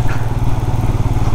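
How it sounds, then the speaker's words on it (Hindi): A motorcycle engine labours on a steep, rough mountain road at Sach Pass, a loud, continuous low throbbing drone close by with no talk over it. "बाइक की इधर जान निकल रही है बेचारी, चल ही नहीं पा रही है।"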